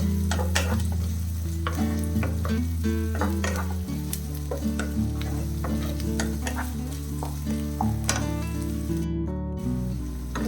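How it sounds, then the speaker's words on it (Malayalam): Shallots sauté with ginger garlic paste in a pan, making a constant close sizzle with frequent stirring clicks and scrapes over a steady tonal hum. "പിന്നെ ചെറിയ ഉള്ളി ഉണ്ടല്ലോ, അത് നല്ല രീതിയിലൊന്ന് വഴറ്റിയെടുക്കണം."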